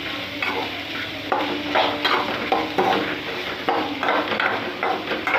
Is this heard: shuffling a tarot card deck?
no